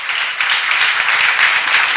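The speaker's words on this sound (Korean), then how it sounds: "범사에 우리 주 예수 그리스도의 이름으로 항상 하나님 아버지께 감사한 사람만 박수 치세요" A church congregation claps together during a seminar on Ephesians at a Jesus-centered church, a dense, steady wash of many hands that stays even and fairly loud throughout.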